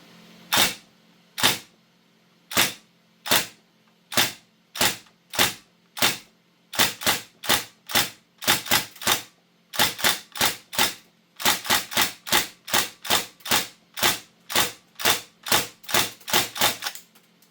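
A Northeast MP2A1 airsoft gun firing BBs on semi-auto on CO2 gas, with many sharp, loud, close shots, spaced at first and then coming in faster, evenly timed strings.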